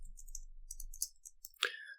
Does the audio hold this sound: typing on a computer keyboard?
yes